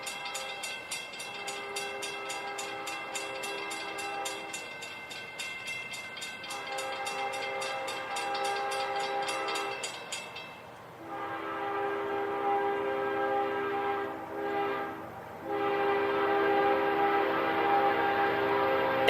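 A short intermodal freight train rumbles past close by with a steady clatter of cars, and loud horn blasts sound over the rolling noise throughout.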